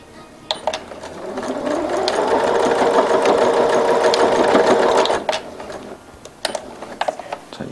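A sewing machine stitches fabric for a baby's newborn jacket in one sustained run of rapid mechanical whirring, with scattered clicks and taps from handling the machine before and after.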